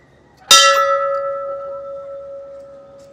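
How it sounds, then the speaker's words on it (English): A single bell struck once at a Disneyland ride, a sharp clang that rings on with a clear sustained tone, slowly fading over a few seconds in an otherwise quiet setting. "since we've got the bell here, we gotta ring the bell"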